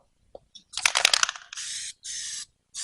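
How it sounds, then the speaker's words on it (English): Permatex spray gasket hisses from an aerosol can onto a piston motor part in quick bursts: a longer spray and then two short, sharp hisses close to the microphone, with a few small clicks in between. "This tacky, it's Permatex spray gasket."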